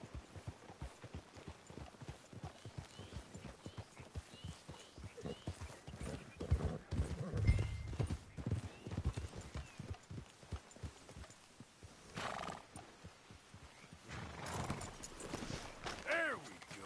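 Horse hooves clip-clop at a steady walk in Red Dead Redemption 2, with a brief whinny midway, moderately near under faint background voices and ambience.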